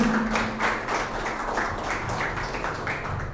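Audience applause at the inauguration of a Copedel cooperative agency branch in Cobán, a steady crowd clapping at moderate volume that carries evenly through the whole stretch.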